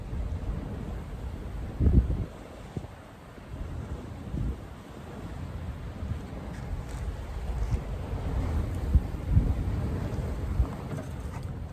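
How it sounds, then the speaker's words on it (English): Low rumbles of thunder from an approaching storm roll in beside an RV near a highway, deep and muffled bursts rising over steady wind noise, with no voices. "You can probably hear that thunder, and the storm's coming from over this way."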